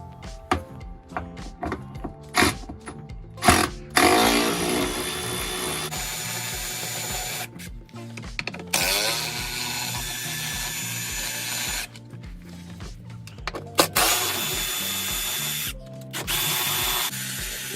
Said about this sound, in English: take this under tray off, and there's six or seven 10mm bolts keeping that tray secured on, so we'll get that off now